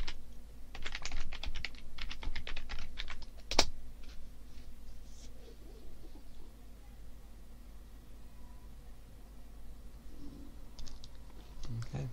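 Someone types on a computer keyboard in a quick run of close, light clicks early on, then the keys go sparse and intermittent. A voice talks over it at times.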